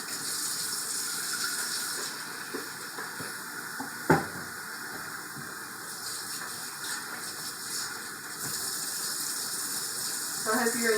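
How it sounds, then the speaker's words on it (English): Liquid drained off and food rinsed under running water while making chicken soup with egg noodles and vegetables, a steady hiss of flowing water with a sharp clunk near the middle and some talking. "Let me drain this and liquid off of that. I'll give this a little rinse."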